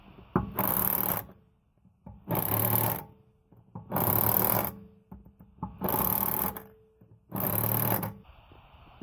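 Lug nuts being tightened on a Chevy Tracker wheel with an impact wrench: five loud, even bursts of about a second each, separated by short pauses.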